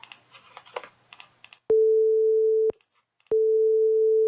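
A synthesized 440 Hz sine wave sounds as two steady, pure, loud tones, each about a second long, following a few seconds of quiet computer keyboard typing.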